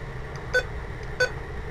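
A Midland weather alert radio sounds its alarm as two short, sharp electronic beeps evenly spaced about two-thirds of a second apart, close and clear over a low steady background hum, with no talking.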